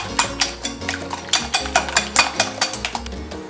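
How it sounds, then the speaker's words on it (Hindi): Eggs being whisked in a bowl for a Pakistani-style chicken cheese omelette make quick, rhythmic clinking taps of a fork against the dish, close and clear, roughly a few strokes per second with no voices. "सबसे पहले हम अंडों को इस तरह फेंटेंगे। इनको अच्छी तरह फेंटना है,"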